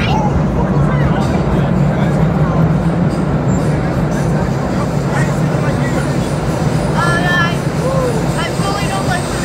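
A New York IND subway train on the 2nd Avenue line rumbles steadily throughout the ride, with a dense, loud low roar, faint rail squeals and scattered chatter from passengers in the car.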